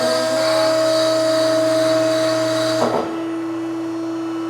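A hydraulic mandrel tube bender working a Corvette frame rail hums steadily with a loud pump whine, then a clunk as the tone drops to a lower, quieter drone.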